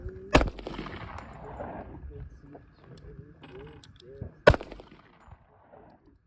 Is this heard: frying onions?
no